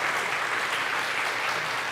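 A church congregation at a Taiwanese-language Sunday worship service applauds with steady, dense clapping that fills the hall for the whole stretch, with no pauses.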